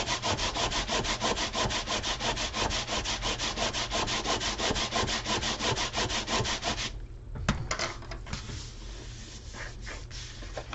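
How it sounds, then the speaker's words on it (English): Steady rapid rubbing strokes from burnishing the edge of a leather card holder, a continuous brisk scraping rhythm for about seven seconds, then quieter handling noises and a few scattered rubs. "Now I'm going to flip it over and give it a good burnishing."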